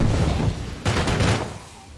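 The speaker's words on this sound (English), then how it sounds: "I just shot a firework onto this guy." A firework weapon fired in a video game: a sudden burst of crackling, popping gunfire-like blasts breaks out partway through over steady game noise, then fades out.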